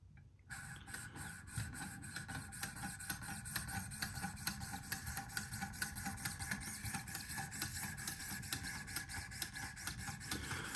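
A Spyderco Yojumbo wharncliffe knife is sharpened on a Wicked Edge system with 2200 grit stones, a faint, continuous rhythmic rasping of repeated strokes against the blade throughout.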